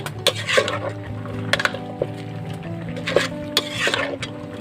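A spoon stirring the Ilocano lumo-lumo dish in a pot, producing loud metallic clanks and scrapes in an irregular rhythm over a low background hum.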